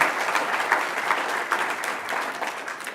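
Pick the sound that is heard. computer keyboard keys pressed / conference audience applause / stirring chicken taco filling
conference audience applause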